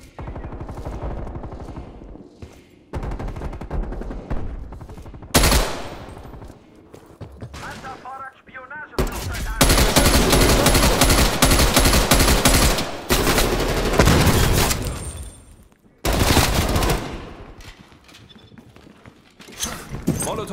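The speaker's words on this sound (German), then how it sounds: "Feindliches Geschütz aktiv." Rapid bursts of automatic gunfire from an enemy turret in the video game Call of Duty Black Ops Cold War multiplayer, loud repeated volleys broken by short gaps, with game announcer voice lines heard among the shots.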